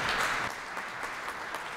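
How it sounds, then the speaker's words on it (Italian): Audience applause at an international opera singing competition evening in Rome, a steady wash of many hands clapping throughout, loudest at the start and easing slightly, with no talk over it. "con un applauso"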